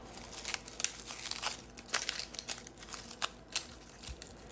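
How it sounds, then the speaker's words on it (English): Dry onion skins being peeled off by hand for replanting, giving close, irregular papery crinkling and crackling bursts with brief pauses between them, no speech. "I'm peeling away the extra onion layers"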